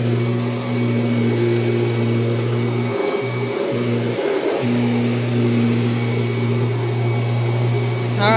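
A Kirby G4 80th Anniversary Edition upright vacuum cleaner runs with a loud, steady motor whine and hum, briefly dipping twice as if bogging or shifting, close and alone.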